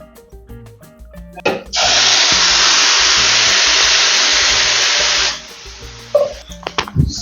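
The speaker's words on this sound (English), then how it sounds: "I'm going to be frying it in this oil" Raw, un-parboiled rice frying in hot oil for Nigerian fried rice gives a loud, steady broadband sizzle that bursts in, holds for about three and a half seconds, then cuts off to quieter kitchen clatter.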